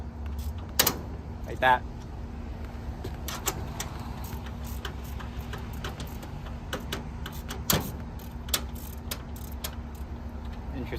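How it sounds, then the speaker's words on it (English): A spanner's ratchet skips with quick metallic clicks during assembly of a Craftsman S2000 52-inch rolling tool cabinet and chest, heard in a few brief bursts amid ongoing workshop noise. A person speaks briefly. "I wonder if the spanner is broken. I hear it skipping."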